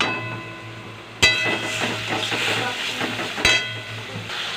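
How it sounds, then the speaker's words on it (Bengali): Ground tomato paste hitting browned onion paste in hot oil for fish kalia, with a sharp clank as it goes in, then steady frying sizzle and stirring, and another clank near the end, close and fairly loud. "এবার বেটে রাখা টমেটো দিয়ে দেবো"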